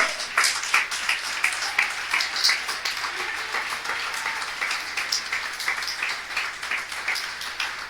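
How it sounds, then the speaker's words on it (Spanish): A church congregation claps during a Spanish-language sermon, a sustained round of many hands with a pulsing rhythmic beat, steady and moderately loud throughout with no talk over it. "Que ese aplauso sea más fuerte"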